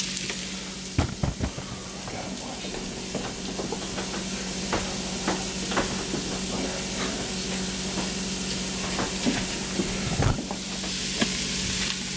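Fried rice with a tablespoon of butter sizzling on a home kitchen hibachi, a constant loud frying hiss with scattered knocks and scrapes of a utensil stirring, close up, no speech.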